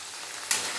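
Turmeric powder and salt dropped into hot oil set off a sudden loud sizzle partway through, over a quieter steady frying hiss, with no voices.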